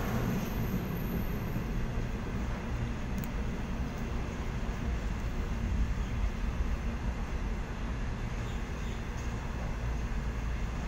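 A passenger train hauling a trailing 81 class locomotive passes at a suburban Sydney station, a steady loud rumble and wheel roar that holds for the whole stretch without easing.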